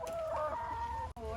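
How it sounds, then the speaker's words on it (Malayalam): Chickens clucking close by at a home in Idukki, a short burst of several overlapping throaty calls that cut off abruptly, with no voices. "ഹായ് പറയൂ കോഴികളെ."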